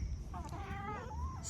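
A cat meows once, a short wavering call close by, heard over a low background rumble at a farmyard where hens are kept.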